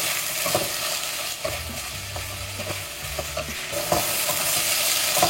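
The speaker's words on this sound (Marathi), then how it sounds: "हे कांदे आमी बरे सॉटे करूया until light golden in colour." Chopped onions with a pinch of salt sauté in a pan for a Goan chicken curry. The sizzle is steady and close, broken by repeated stirring scrapes, and no one speaks.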